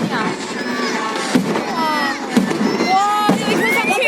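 Fireworks burst at the Penghu fireworks festival in Taiwan, with three sharp booms spaced about a second apart. Excited spectators talk and exclaim over the blasts, and whistling trails rise between the bangs.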